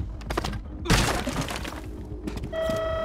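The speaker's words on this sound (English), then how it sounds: "Break through that wall." Wall breached in the Rainbow Six Mobile video game: a loud, close crashing shatter bursts out about a second in and rumbles away, amid steady game noise and a late sustained electronic tone.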